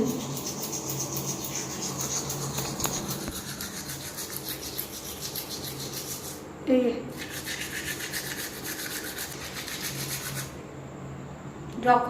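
A toothbrush scrubs teeth in a steady wet rubbing rhythm, close up, with a couple of brief louder bumps and faint background noise.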